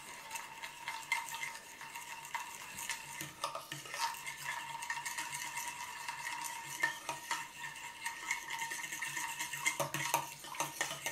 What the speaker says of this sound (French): j'essaie de mélanger un chouïa à la fourchette